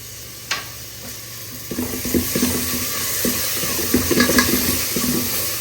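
A spoon stirs mint, coriander and yogurt in a pressure cooker for paneer biriyani, with scraping and clinking strokes over a soft sizzle. The stirring is close and grows busier after the first couple of seconds.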